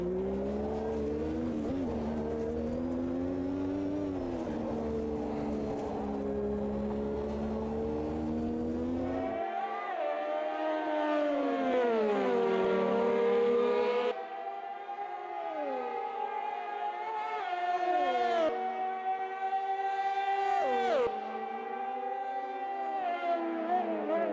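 1986 Formula One car at Monza during the Italian Grand Prix, its high-revving engine screaming loudly through repeated gear changes with rising and falling pitch sweeps, heard from inside the car with a voice occasionally talking over it.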